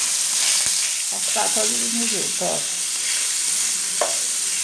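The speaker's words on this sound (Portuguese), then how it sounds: "eu vou colocar aqui do lado a linguiça. Vai fritando aqui do lado." Steady sizzling of sausage frying in a pan, with occasional stirring and scraping, while a voice speaks briefly in Portuguese in between.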